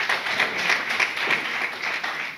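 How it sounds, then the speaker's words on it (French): Applause for students at an integration day event, a steady wash of many hands clapping at moderate loudness, continuous throughout with no talk. "Donc beaucoup d'applaudissements à ces braves étudiants."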